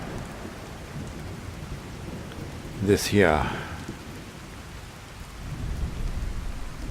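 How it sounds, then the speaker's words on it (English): Heavy rain pours steadily throughout. A sharp crack of thunder breaks midway and rolls off, and a voice briefly speaks. "Perhaps I can find refuge from the downpour."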